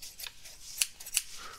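Scissors snip through paper in a quiet, close ASMR recording, with soft rustling and two crisp, sharp cuts standing out clearly and no talking.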